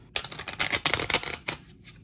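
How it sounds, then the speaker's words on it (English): A deck of playing cards is shuffled by hand over a game board in a quick burst of riffling flutters and snaps, close and fairly loud, with no talk. "Shuffling that up a little bit more."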